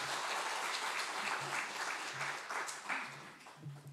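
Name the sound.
congregation applause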